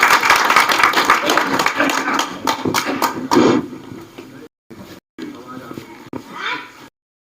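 Applause from a gathering of traders welcoming the sub-divisional magistrate at a meeting, a few seconds of mixed clapping under talk, thinning out and giving way to speech with short gaps.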